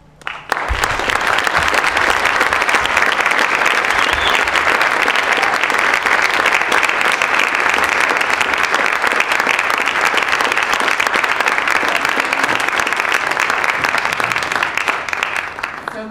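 A large audience applauds steadily to welcome a guest on stage, a dense, loud, sustained wash of clapping that holds for the whole stretch without pause.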